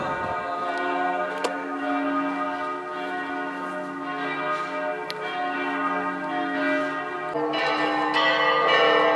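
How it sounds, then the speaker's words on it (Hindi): Church bells ringing at 2:30 in Jerusalem near the Western Wall, a sustained resonant peal with a few sharper clangs, continuous throughout and swelling near the end. "ये 2:30 बजे घंटियां बजनी शुरू हो गई हैं"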